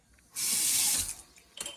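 Water from a tap runs into a cat's water bowl in a short, steady hissing burst of about a second, then cuts off, followed by a brief splash or clink.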